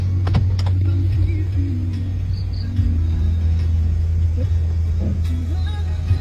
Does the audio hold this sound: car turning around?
yes